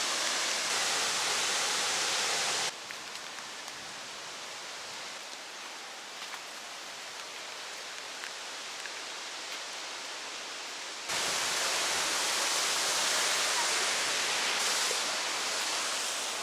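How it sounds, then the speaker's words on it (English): Rainbow Falls, a large waterfall in Hilo, Hawaii, roars as a steady, dense broadband wash of falling water, loud and constant, dipping slightly in the middle stretch before returning at full strength. "Look at that, a giant waterfall."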